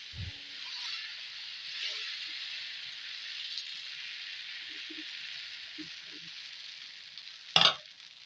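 Thin masala dosa batter sizzling in light oil on a hot dosa griddle, a steady hiss throughout, with a few faint clinks and a brief sharp scrape near the end.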